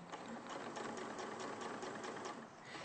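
Sewing machine stitching steadily along a fabric edge with the presser foot guiding it, a fast, even mechanical whirr with rapid needle ticks, close and continuous at moderate volume.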